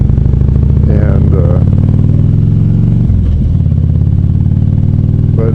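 A motorcycle engine runs steadily and loud throughout, a low continuous rumble with a brief dip near the middle and faint clatter.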